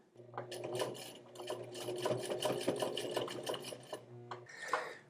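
A sewing machine stitching black jeans, running steadily for several seconds in rapid rhythmic bursts with a constant motor hum, close and fairly quiet, then stopping with a brief handling sound at the end.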